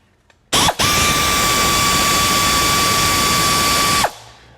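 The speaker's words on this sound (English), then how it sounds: "I'll use a 10mm deep 1/4" drive on our air ratchet, and we have 4 nuts on the outer corners" An air ratchet with a 10mm deep 1/4-inch drive socket spins valve cover nuts off an Acura NSX engine, a loud continuous pneumatic whir with a steady high whine lasting about three and a half seconds, starting and stopping abruptly.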